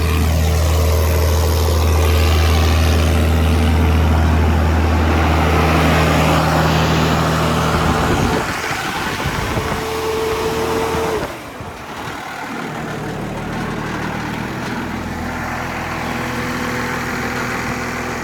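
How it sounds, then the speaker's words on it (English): Diesel-powered irrigation pump engine running loud and steady close by, a constant low droning hum with a brief dip and shift in tone partway before settling back into an even idle. "So this one's diesel powered. Makes a lot of noise."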